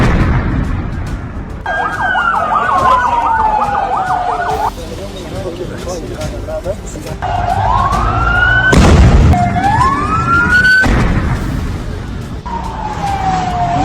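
Wailing emergency sirens in a news report on bomb blasts in Damascus, Syria, with rising and falling tones, loud and close, plus a sharp blast-like crack midway and traffic noise underneath.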